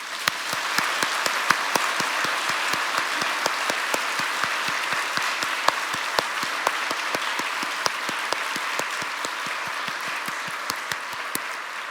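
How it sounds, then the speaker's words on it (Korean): A church congregation applauds steadily for several seconds at a New Year's midnight service, a dense even patter of many hands clapping with a few sharper claps standing out. "하나님 앞에 박수"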